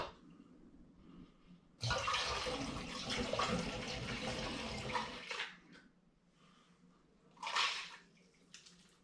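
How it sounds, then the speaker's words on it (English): Sugar solution pours into a full demijohn of pineapple and hops sparkling wine, making a loud, close gush of liquid for a few seconds before it tapers off, followed later by a short second splash. "now I'm going to add the sugar solution"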